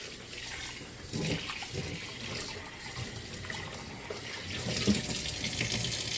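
Running tap water pours steadily into a sink while a giant lobster head is rinsed under it, a continuous close splashing stream with slight surges and no talk.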